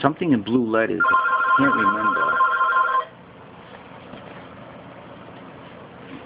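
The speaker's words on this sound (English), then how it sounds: "Sorry about the phone ringing." A telephone rings with a bright electronic trill for a couple of seconds and then stops, heard in a room near someone speaking, with a low idling hum underneath.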